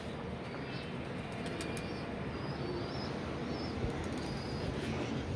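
A Lakha pigeon flaps its wings steadily as it comes in to land, a continuous fluttering rush over faint chirps from other birds outdoors.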